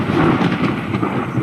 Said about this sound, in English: When the thunder rumbles